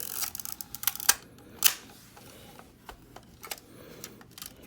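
A Kodak Instamatic X-15 camera is cocked and its shutter fired, giving a few sharp mechanical clicks and snaps, with two louder bursts standing out against a quiet room.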